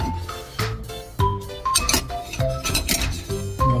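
Ingredients for a Korean doenjang jjigae soybean paste stew go into a cooking pot with a quick run of metallic clinks and clatters from utensils and cookware, close and fairly loud.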